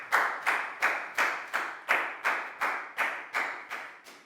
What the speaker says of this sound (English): High five and a big round of applause for Lackow